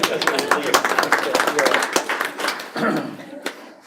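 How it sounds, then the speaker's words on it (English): Audience at a school board meeting clapping, a quick run of sharp hand claps that keeps going over about four seconds and thins out toward the end, with talk mixed in. "Give them a clap at"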